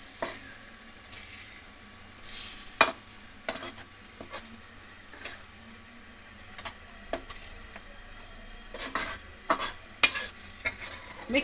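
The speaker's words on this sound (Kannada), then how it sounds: "ಈಗ ಇಷ್ಟನ್ನು ನಾವು ನಿಧಾನವಾಗಿ ನೀಟಾಗಿ ಎಲ್ಲ ಮಿಕ್ಸ್ ಮಾಡೋಣ." A spoon stirs an egg masala omelette mixture in a pan, giving irregular scraping and clinking strokes over a soft sizzle, with no talking.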